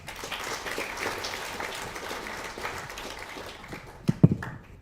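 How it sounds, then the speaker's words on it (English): Audience applause at a product launch for an organic broad-spectrum biopesticide, a moderate wash of clapping from a crowd that fades, followed by a few louder nearby knocks. "Round of applause, please."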